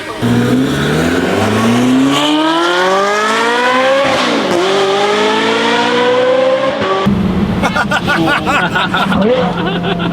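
A Porsche 918 sports car accelerates hard and close, its engine pitch climbing through successive gears with sharp shifts, as crowd murmur and voices run underneath.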